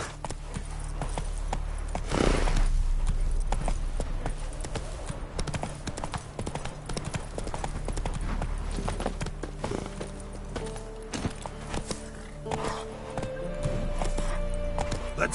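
A horse gallops across open ground in The Witcher 3: Wild Hunt, its hooves clip-clopping in a fast, steady rhythm. The hoofbeats sound close and run throughout under game ambience, with a brief louder thump early on.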